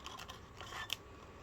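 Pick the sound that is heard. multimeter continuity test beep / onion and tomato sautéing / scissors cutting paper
scissors cutting paper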